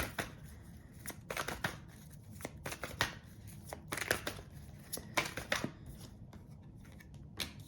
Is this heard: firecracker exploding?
no